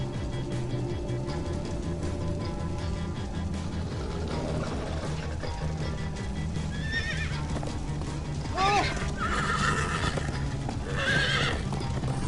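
Clip-clop of galloping hooves in Minecraft Story Mode under rumbling noise, with whinnying horse calls rising in the second half.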